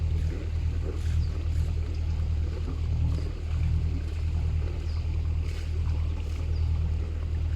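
River boat on the Lot turning around, its engine a low steady rumble throughout with faint water and wind noise and no talk.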